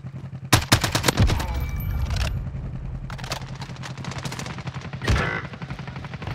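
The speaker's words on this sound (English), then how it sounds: "They're shooting in somewhere." Video game gunfire from Call of Duty Warzone: bursts of automatic fire and scattered shots crackle in clusters, loud at first, then quieter and more distant, with a final sharp volley near the end.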